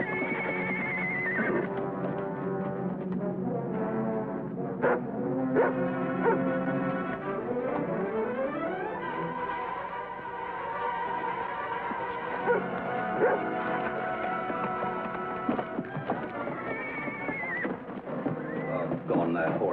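A horse whinnies in a western adventure scene, shrill rising and falling neighs breaking out at the start, near the middle and again toward the end, mixed with voices, music and rough hoof sounds.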